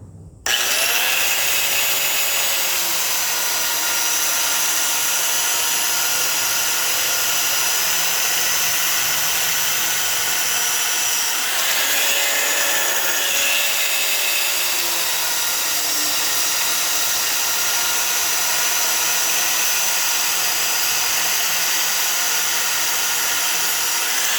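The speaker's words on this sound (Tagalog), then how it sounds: "Grinder ulit natin." An angle grinder runs continuously for over twenty seconds while working a belt pulley on a Toyota 4K engine adapted for an Aerox belt. It gives a loud, close, steady high whine with slight dips in pitch under load and no speech.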